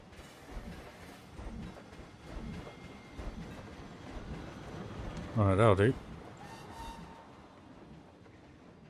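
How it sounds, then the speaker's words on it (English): Train passing in the theme-park building game Planet Coaster, a brief loud rumbling and screeching burst mid-clip over steady game ambience, with someone talking throughout. "Go away, train."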